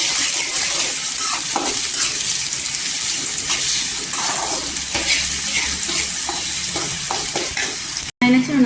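Two chopped onions fry in hot oil until golden, producing a loud, continuous close-up sizzle broken by spatula scrapes and stirring, with a brief cut near the end and no speech.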